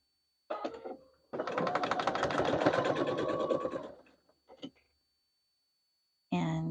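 A sewing machine stitches fabric for a project bag in one steady burst of rapid mechanical chatter, with a short quieter run afterward and a voice speaking at the end.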